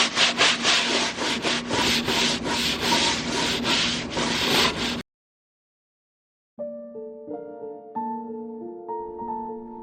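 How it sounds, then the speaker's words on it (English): Close, rhythmic strokes of sandpaper rub across wood to take off factory stamps for about five seconds, then stop, followed by silence and a few soft tonal notes. "Another thing you're supposed to do at this point is sand off the factory stamps"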